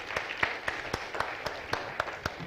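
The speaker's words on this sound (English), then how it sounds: "Can we have a round of applause for the lady who's joined us now?" Light applause from a panel session audience, a few steady distinct claps at an even pace over a soft background wash, fairly faint and brief.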